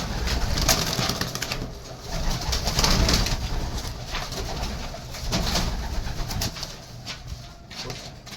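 Pigeons cooing in a loft holding a mixed flock of homing, red and other fancy breeds, with soft overlapping coos and a constant low rumble of birds close by, occasional faint wing flutters, no talking.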